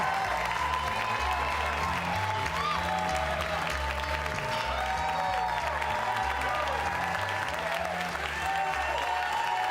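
Loud, sustained applause from a large comedy club audience, dense clapping with some crowd noise and cheering throughout, steady for the whole stretch.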